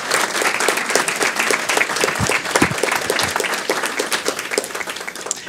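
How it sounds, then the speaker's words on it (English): Audience applause at a school board public meeting, a sustained patter of many hands clapping at moderate loudness, with a few louder individual claps standing out near the middle. "You can clap."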